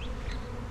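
A honeybee swarm settling into a tree makes a steady, dense buzzing that holds at a constant level throughout, close and continuous with no voices.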